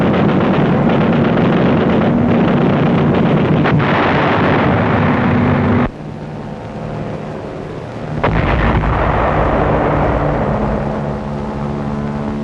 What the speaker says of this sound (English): Offshore, supporting units of our fleet execute fire missions against the Naha area.